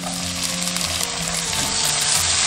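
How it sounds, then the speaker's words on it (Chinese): Dried shrimp stir-fry in hot oil with scallion, ginger, garlic and dried chili. The oil gives a dense, continuous, loud sizzle close up, with faint stirring movement underneath. "锅中倒油，下入葱姜蒜、干辣椒，等香。 闻到香味过后，下入虾米，"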